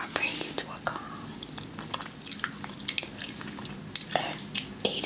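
Close-miked gum chewing in an ASMR setting, with wet smacking clicks and squishy mouth sounds repeating in irregular bursts, intimate and crisp against a quiet background.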